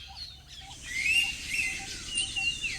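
An Indian pitta calls in Goa, giving clear whistled notes against a busy background of other bird chirps and insect-like chatter, fairly near and moderately loud.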